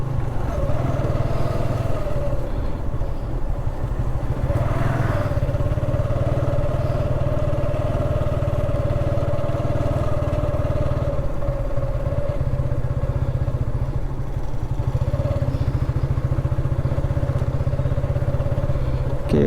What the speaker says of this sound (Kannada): ಪುತ್ತೂರು ಬೈಕು